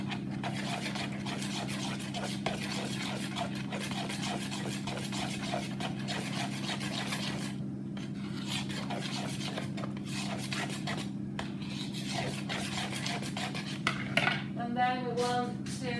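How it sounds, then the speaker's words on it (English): A spoon stirs spices into a carrot cake baked oats mixture in a bowl, giving a soft, steady rubbing and scraping with faint occasional clinks, quiet and close. "Give that another stir."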